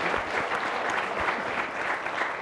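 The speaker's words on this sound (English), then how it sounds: "Save your clapping." A crowd applauds steadily, a dense wash of many hands clapping at once with no pauses, fairly loud and close.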